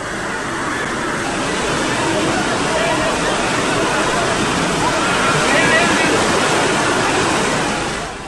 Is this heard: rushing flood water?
yes